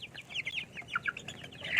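Native crossbreed chickens give short, bright clucks in quick irregular bursts, fairly close and moderately loud, with a louder call rising at the end.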